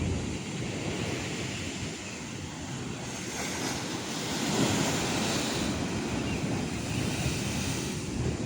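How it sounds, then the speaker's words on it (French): Steady roar of ocean surf breaking and washing in at Étang-Salé, Réunion, with wind buffeting the microphone throughout; no voices. "C'est dingue hein, les vagues là."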